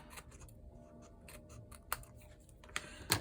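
Good paper-only scissors trimming a strip shutter card, producing a few quick close snips with short pauses between cuts, with no talking.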